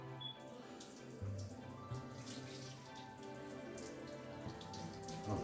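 Water trickling and dripping off freshly removed turkey giblets held over a sink, a steady soft patter with scattered drips throughout, fairly quiet and close.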